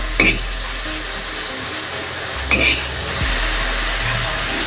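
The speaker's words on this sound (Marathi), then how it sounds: "पालक थोडासा परतून घेतला" Cooked spinach sizzles in a pan with onions for garlicky lehsuni palak, a steady frying hiss broken by a couple of sharp spoon scrapes as it is stirred.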